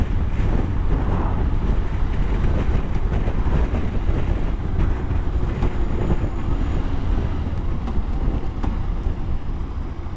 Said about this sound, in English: A few gusts of wind as well.